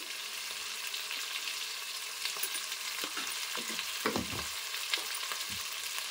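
Spice masala frying in oil in a pan for a pomfret fish curry, a steady close sizzle with a few louder stirring scrapes, and no talking.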